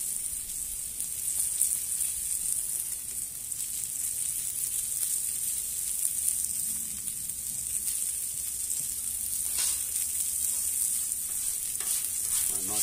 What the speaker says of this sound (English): So we're searing out the filet mignon